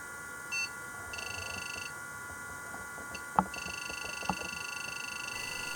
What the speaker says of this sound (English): the PC speaker is beeping like crazy